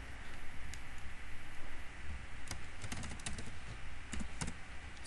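Clicking of a computer keyboard while working in Tableau, a quiet, close run of scattered keystrokes with a few quicker clusters over faint room hiss.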